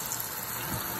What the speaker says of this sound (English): Rinse them out.